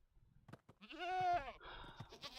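A goat bleats in the Minecraft Bedrock video game: a single wavering, nasal bleat of about half a second, clear against faint surrounding game sounds.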